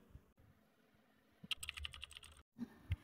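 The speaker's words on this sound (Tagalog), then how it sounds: "Lalabas dito ang typing on keyboard." A computer keyboard sound effect of rapid, uneven keystroke clicks. Faint taps start it, a dense burst of typing follows, then a short gap and a few final louder clacks, all with no voice.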